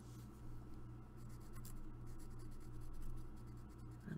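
A pencil or pen scratches quietly across paper while a carving design is drawn, with soft continuous strokes over a low steady hum, faint and close.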